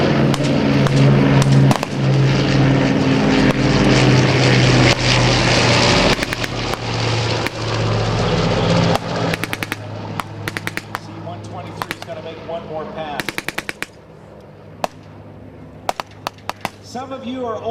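At an air show Vietnam battle reenactment, an armed C-47 aircraft drones loudly overhead, then rapid machine gun bursts and scattered sharp shots ring out while an announcer talks over the noise.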